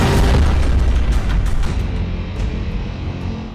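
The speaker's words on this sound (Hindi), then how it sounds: "पहला धमाका" A deep, rumbling blast from a military strike that starts loud and slowly fades into a long, low roar, with no voices.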